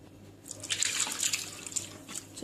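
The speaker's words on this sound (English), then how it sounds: "now we are going to immediately strain it" Curdled milk for rasmalai drains through cheesecloth with a soft, continuous trickle and scattered drips of liquid, close and fairly quiet, with no talking.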